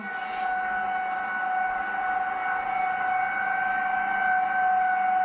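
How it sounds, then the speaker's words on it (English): Tornado sirens in Crown Point, Indiana wail in a steady, sustained tone, continuous, loud and unbroken, over a faint background rumble. "So you can hear the sirens. Listen."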